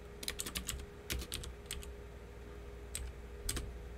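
Fast bursts of typing on a computer keyboard while writing Salesforce Apex trigger code, close clicky keystrokes in quick clusters separated by short pauses, with no talking.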